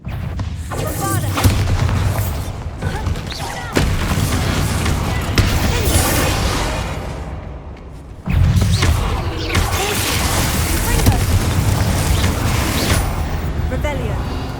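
The Bombarda spell in Hogwarts Legacy blasting with heavy booming crashes, two sharp impacts standing out over a dense, loud wash of game sound and a voice.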